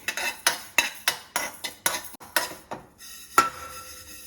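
Cumin and fenugreek seeds roast in a pan while a metal spoon stirs them, giving a dozen or so sharp, evenly spaced scraping clinks, close and clear with no talk.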